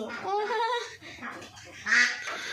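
Ducks on a small duck farm quack in loud, close, overlapping calls, a nasal run of quacks followed by a sharper honking burst, with no talk over them.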